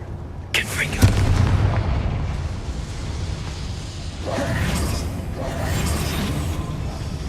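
Booming magical blasts from the Confringo fire spell in Hogwarts Legacy, a sudden burst followed by two more rumbling explosions over steady game ambience.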